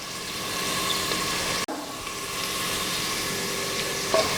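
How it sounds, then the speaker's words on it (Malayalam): Onion, green chilli and curry leaves sautéing in a pan for a Kerala vegetable stew, a steady close sizzle with one brief break partway through and a faint clink near the end. "ഇനി ഇത് നന്നായിട്ടൊന്ന് വഴറ്റി കൊടുക്കുക."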